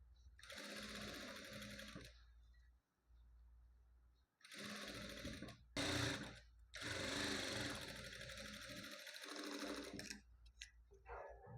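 Sewing machine stitching along a blouse neckline, loud steady whirring runs in three long bursts separated by short pauses and handling noises.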